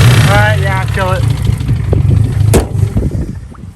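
A car engine runs with the hood open, a low steady rumble close by that eases slightly toward the end, while someone talks over it.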